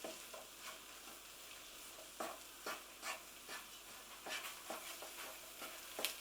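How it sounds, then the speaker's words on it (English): Spiced couscous gently stirred in a pan over low heat, with soft, faint scraping strokes repeating in an uneven rhythm over a quiet background hiss. "We're just gently stirring."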